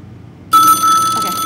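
A telephone bell rings loudly and close after a moment of near silence, a bright electronic trill held for about a second, with no talking.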